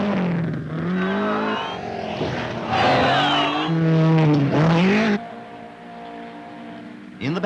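A Datsun rally car competes in the 1976 Safari Rally in Kenya, its engine revving and changing pitch as it accelerates and shifts, loud and close, with a gap of quieter engine drone near the end.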